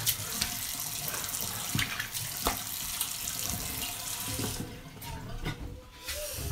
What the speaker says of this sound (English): I'm going to splash on some cool water to take this alum off.